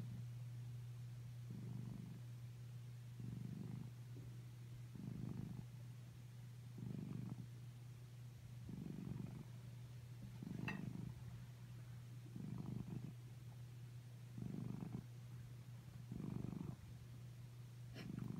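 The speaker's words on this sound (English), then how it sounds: "I can hear you purring." A cat curled up on a soft needlepoint cushion purrs close by, in a faint, steady rhythm of pulses about two seconds apart, each rising and falling with its breathing.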